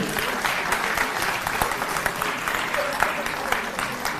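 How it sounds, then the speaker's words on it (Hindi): Steady, enthusiastic applause from a large crowd at an awards ceremony in Delhi, clapping evenly and loudly for several seconds without a break. "एक बार सब लोग जोरदार तालियों से उनका स्वागत करें"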